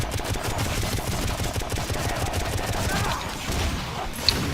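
Dense, rapid gunfire from the video game Painkiller, a continuous rattle of shots with one sharper crack near the end.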